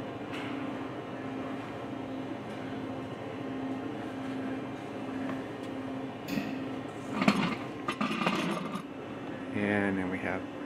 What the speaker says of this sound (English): you can hear the screw turning